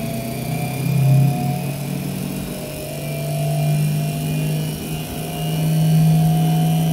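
An electric motor with a shorted coil runs over voltage before burning out, giving a continuous loud droning whine that swells and dips in strain throughout.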